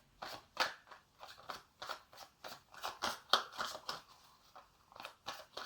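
Divination and inner-guidance cards are shuffled by hand in a quiet room, giving a run of soft, close, rhythmic papery riffles and slaps with brief pauses between them.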